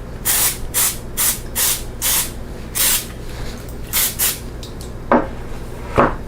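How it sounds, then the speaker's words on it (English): A regular olive oil spray can releases a series of short hissing bursts in a kitchen while Brussels sprouts and grapes au gratin are prepared, about nine quick puffs close up, followed by two clinks of dishes. "just a regular olive oil spray"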